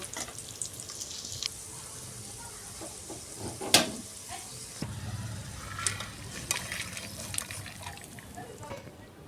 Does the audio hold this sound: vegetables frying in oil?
yes